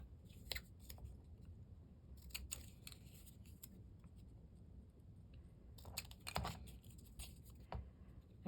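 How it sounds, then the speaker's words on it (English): Scissors cutting through chipboard pieces, with crisp repeated snips in short clusters against a quiet background, close up. "So we're gonna cut these all,"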